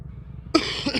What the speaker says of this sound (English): Coughed in y'all's ear again, I'm so sorry.